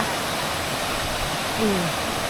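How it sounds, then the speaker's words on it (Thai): Steady broadband roar of a waterfall at Namtok Yong National Park in Thailand, continuous and close, with a brief faint voice-like tone near the end. "เดี๋ยวเราไปถ่ายบรรยากาศน้ำตกใกล้ๆกันนะคะ"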